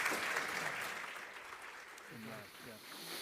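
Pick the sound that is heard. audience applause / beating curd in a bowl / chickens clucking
audience applause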